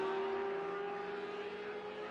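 Lamborghini race car engine in Project CARS 2 at Circuit Zolder, a steady, fairly faint tonal drone holding one pitch throughout, heard from a distance.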